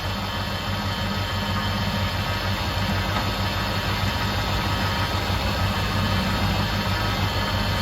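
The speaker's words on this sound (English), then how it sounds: "Wesley, you got the blower motor working." The ventilation blower motor of a 1967 Pontiac Grand Prix runs steadily, a constant low drone and whir with no change in pitch throughout, heard close and alone.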